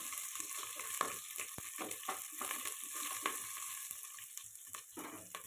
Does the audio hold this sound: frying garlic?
yes